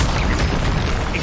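The Incendio fire spell in Hogwarts Legacy goes off as a loud, dense burst of roaring, crackling flame that fills the whole moment, close and continuous with no voices.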